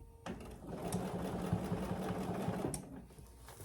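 A sewing machine stitches a second row of darker thread along a fabric oven mitt, whirring steadily and close for about two and a half seconds before stopping.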